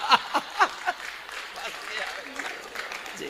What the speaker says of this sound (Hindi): ये भाई साहब ने ताली बजाई है